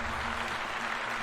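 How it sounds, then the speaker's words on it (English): Cheering crowd and steady applause sound effect, a dense wash of clapping and voices held at an even level for a moment with no pause. "And the crowd goes wild."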